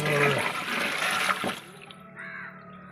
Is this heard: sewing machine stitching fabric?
no